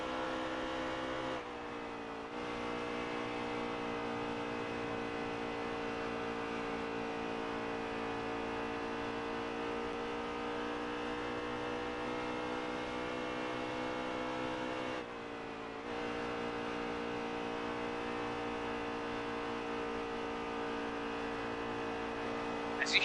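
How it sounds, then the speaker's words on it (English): NASCAR Cup race car engine running at full throttle at Las Vegas, a loud steady high-revving drone with strong harmonic whine, sustained for most of the stretch with two short dips, heard alone without talk. "As you hear that engine"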